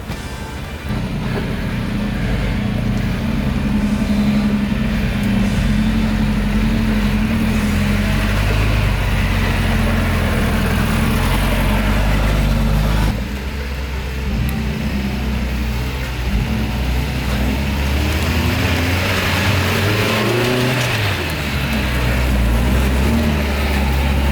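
A 1985 Toyota pickup, originally a two-wheel-drive truck, runs with a steady, loud engine rumble close by, shifting in tone briefly partway through. No one talks.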